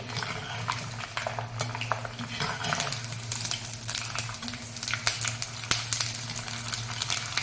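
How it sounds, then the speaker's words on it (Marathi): Nylon poha being deep-fried in very hot oil, giving a steady, close sizzling crackle with light clinks of a metal utensil stirring the pan throughout. "तेल पण छान तापलेलं आहे तर नायलॉन आधी तळून घेऊया"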